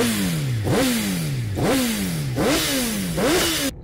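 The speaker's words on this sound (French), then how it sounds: "Moto." A motorcycle at a French amateur road cycling race revs loudly and close, climbing through three rising gear changes in steady succession.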